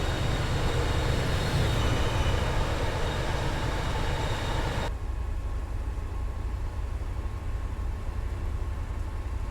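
Double-decker train running in the Train Sim World 5 game, a steady loud rumble of wheels on rails that continues throughout, with a sharp cut halfway through to a quieter, duller rolling sound.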